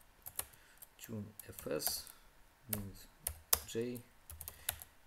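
A shell command for a FreeBSD system is typed on a computer keyboard: scattered sharp key clicks, some in quick runs, sit between and under a man's fairly close speech.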